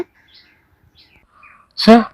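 Birds chirp in an animated folk story, with a few faint tweets early on followed by a louder burst of chirping near the end.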